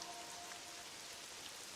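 Steady rain falling in the video game Pokopia, an even hiss of drops pattering on surfaces, faint and continuous with no voices over it.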